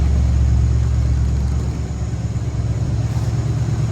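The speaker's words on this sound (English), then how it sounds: "Sitting here idling just pretty as fleece." A Ford F-100 pickup engine idles steadily with a single exhaust, giving a low, continuous rumble with faint harmonic lines that stays loud and close throughout, with no voices over it.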